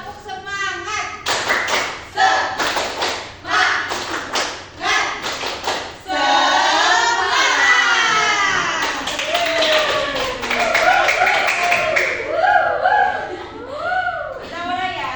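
Students in an Indonesian microteaching science class do a rhythmic spirit clap: a patterned series of sharp claps and taps, followed by lively group chanting and laughter.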